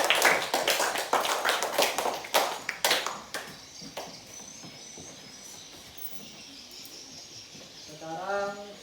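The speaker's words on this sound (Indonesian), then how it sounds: "beri tepuk tangan untuk kelompok 3" Students in a classroom clap for a group, a burst of sharp, uneven handclaps over the first few seconds that thins out and fades into quiet room noise.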